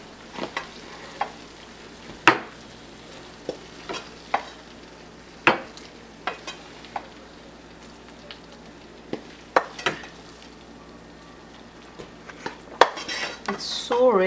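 Metal spoon scrapes and clinks against a pan and serving dish while creamy malai onion sabzi is dished out, sharp scattered taps and scrapes over a faint sizzle, close and unhurried, with no speech.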